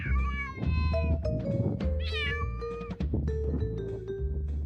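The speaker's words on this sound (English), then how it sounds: "listen how this cat meows" A cat meows repeatedly, with long, drawn-out, wavering cries following one another closely, loud and near, with no talking.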